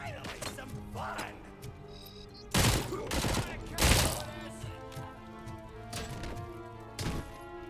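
Uzi micro SMG fire in the RoboCop: Rogue City video game: several loud sharp bursts over a busy game soundscape with music, a big double burst near the middle and a smaller one near the end.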